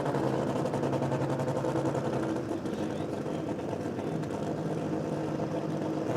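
A drag racing car revving at the start line of a street-performance jamboree, a continuous heavy engine roar holding steady throughout, loud with faint background sound.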